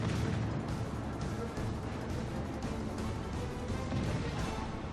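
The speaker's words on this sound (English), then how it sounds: "I hit him with a torpedo" Torpedo strike on an enemy ship in World of Warships Legends, a dense roar of booming blasts and crashing impacts that stays loud and sustained throughout, with no talk.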